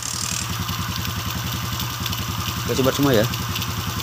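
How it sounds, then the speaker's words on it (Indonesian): A motorcycle engine just started after ignition wiring work idles with a steady, rapid chugging putter close by, while someone talks over it briefly. "Jadi sekarang untuk mesin sudah hidup ya."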